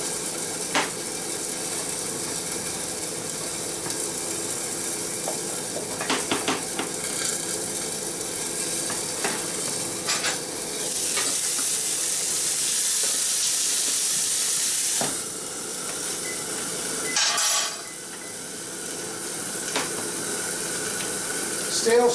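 Scrambled eggs with chives stirred in a hot pan, a steady soft sizzle and hiss with occasional scraping strokes, close and continuous, with no talk.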